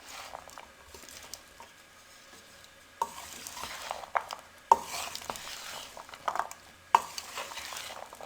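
A spoon stirs fried chickpea chaat with boiled potatoes, giving soft scraping and clinking strokes in a few bursts, with louder knocks against the bowl around the middle and later.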